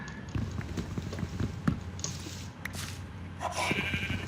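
Sheep in Minecraft bleat a few times over a busy mix of game sounds, including light clicking and footstep-like taps, with no talk over them.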